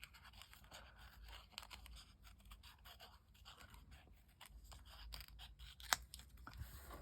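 Scissors snipping away the excess edge of a rub-on transfer sheet, a few quiet crisp cuts with soft handling rustle, close and faint, with no talking.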